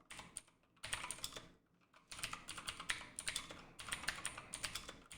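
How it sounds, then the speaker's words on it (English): Computer keyboard typing in rapid bursts of dense key clicks, with a short pause between runs, close and distinct with no voices. "I know you can hear this keyboard right there."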